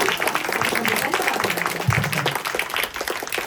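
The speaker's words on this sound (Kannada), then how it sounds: "ಎಲ್ಲರೂ ಜೋರಾಗಿ ಚಪ್ಪಾಳೆ ತಟ್ಟುತ್ತಾರೆ." Audience clapping loudly and steadily at a village gathering, a dense, continuous patter of hands with voices murmuring underneath.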